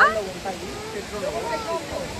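The main waterfall at Plitvice Lakes National Park in Croatia roars as a constant broadband rush of falling water, with voices talking over it throughout.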